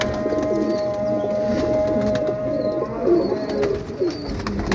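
Teddy breed pigeons coo in a loft, soft repeated low coos from several birds over a steady background hum, near and moderate in level, with no talking.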